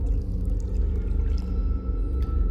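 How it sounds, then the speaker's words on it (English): Water from a garden hose left running down into a hole in the ground, a steady, close, low gushing and gurgling that continues without a break. "I decided to just leave the hose in the hole there for a few seconds"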